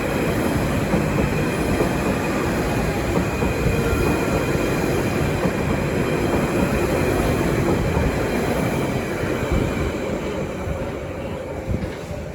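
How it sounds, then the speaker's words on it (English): A London Underground Central Line train pulling out of Ealing Broadway, a continuous rumbling roll of wheels on track with faint high squeals, loud and steady throughout. "And now departing is the 12:36 Central Line service from Ealing Broadway to"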